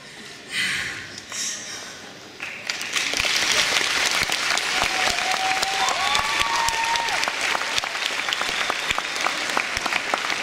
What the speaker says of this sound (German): nochmal einen Applaus für sie